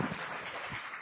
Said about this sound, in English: Round of applause for Jay